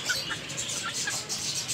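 A yellow rooster kept in a cage gives a few short, light clucks and chirps spread across a couple of seconds, set against a steady hiss of background noise.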